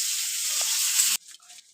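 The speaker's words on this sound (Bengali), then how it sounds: "ব্যাস, একটু ভাজা করে নিলাম।" Eggplant fries in a pan with a bright, loud sizzle that holds steady for about a second, then cuts off abruptly, leaving faint scattered kitchen sounds.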